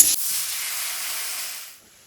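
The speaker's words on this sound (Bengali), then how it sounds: "এখন আমি কড়াইতে আবারও 1 কাপ মতো জল দিয়ে দিলাম" About a cup of water hits a hot kadai after boiling amla and turns into a loud, even hiss of steam that holds steady for over a second and a half, then suddenly dies away.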